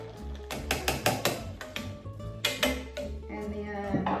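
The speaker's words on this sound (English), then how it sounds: "you're gonna stir it about 3 or 4 more times" A Corona beer cocktail being stirred in a cup, giving a run of sharp clinking knocks in uneven rhythm over a steady low background, close and fairly loud.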